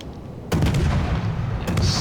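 A naval gun duel between a torpedo destroyer and a heavy cruiser in World of Warships: a sharp, heavy cannon blast, followed by sustained rumble and a second shot near the end.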